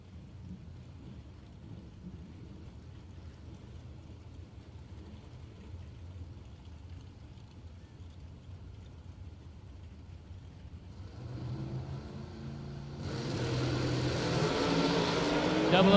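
Dragster making a drag racing run at the Galot drag strip: a low background rumble swells in the last seconds into a loud, roaring blast of engine noise.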